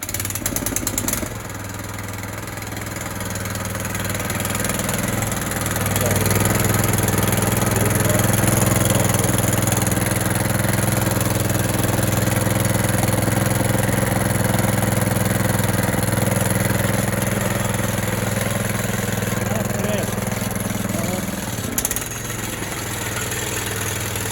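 A DTZ 470B walk-behind tractor engine runs steadily and loudly throughout, its drone shifting in tone as it is taken through the gears, with a brief change near the end.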